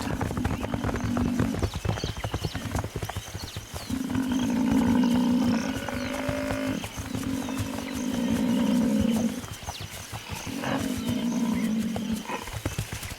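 Lions fighting buffalo on open ground give out deep, rumbling roars and growls in long repeated bursts, with scuffling and hoof thuds mixed in, loud and close throughout.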